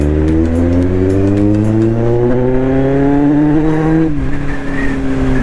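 A Kawasaki Z800 motorcycle engine revving hard while riding home through traffic, a loud steady drone whose pitch climbs smoothly, dips briefly near the end, then carries on strongly.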